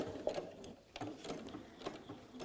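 A sewing machine stitching fabric runs steadily, its needle mechanism ticking and whirring in a fast, even rhythm at close range.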